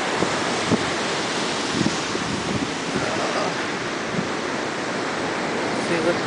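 Ocean surf at a beach near Manchester, California, a continuous broad roar of breaking waves mixed with heavy wind buffeting on the microphone, loud and steady throughout.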